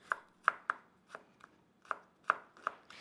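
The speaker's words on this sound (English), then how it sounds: "no need to get too fancy with the chopping" Knife chopping garlic cloves on a board in a home kitchen, about nine crisp, close, uneven chops spaced across a few seconds with no talk.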